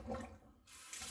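Water drains from a kitchen sink with a steady rushing gurgle that briefly thins out and then returns fuller and brighter, close by, with no voices.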